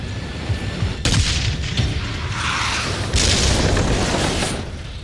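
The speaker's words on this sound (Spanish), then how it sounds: "El segundo disparo alcanza la torreta del tanque enemigo." An anti-tank weapon fires at a T-54 tank during the Vietnam War and strikes its turret, heard as a loud sudden boom followed by rumbling blasts and another heavy impact with lingering rolling noise.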